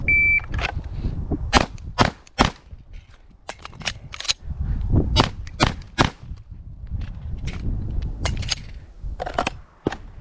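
Rapid pistol shots from a GLOCK 17 fitted with a compensator crack out in uneven bursts, loud and sharp, each report ringing briefly at a shooting range.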